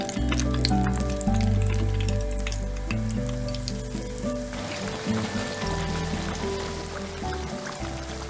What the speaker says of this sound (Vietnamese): Khi dầu sôi thì mình cho cà tím vào chiên vàng.